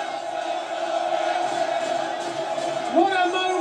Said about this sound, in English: listen to this crowd. Almost split now between Briscoe and Elgin